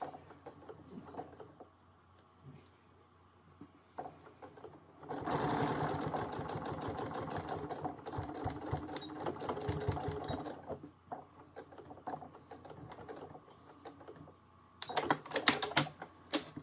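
A sewing machine stitching the side of a fabric pouch, with a long rapid run of needle clatter, a pause, then a short final burst, fairly close and without talk.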